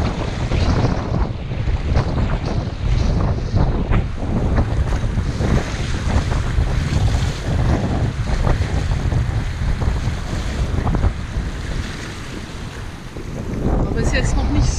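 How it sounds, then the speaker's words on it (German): Storm wind buffets the microphone over crashing waves on Lake Neuchâtel, a loud, continuous roar of gusts and surf with no break, easing briefly before rising again near the end. "jetzt gehe ich mit euch hin an den See und zeige euch die Wellen"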